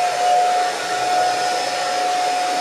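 A blow dryer runs steadily on hair, a loud, close, continuous whooshing roar with a thin whine that holds for the whole stretch.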